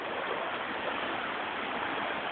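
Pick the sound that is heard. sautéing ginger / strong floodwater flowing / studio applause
strong floodwater flowing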